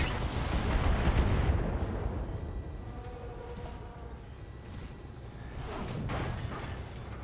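Mech weapons firing in the turn-based game Battletech: dull booming impacts and rumbling launches, loudest early, with a whooshing burst near the end, all alone without talk.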